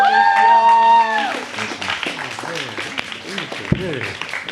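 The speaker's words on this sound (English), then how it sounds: "Give a big round of applause for Thomas, y'all." A crowd at a spoken word and music event applauding a performer, clapping spread under a sung closing note at first, then continuing beneath a host's talking.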